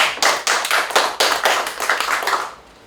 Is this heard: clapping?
yes